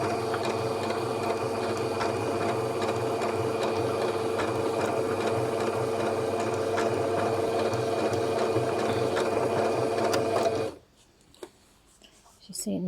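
A sewing machine runs steadily in a blind hem stitch on curtain fabric, a continuous close mechanical whir with a dense rapid stitching rhythm for about ten seconds before stopping abruptly, leaving near silence.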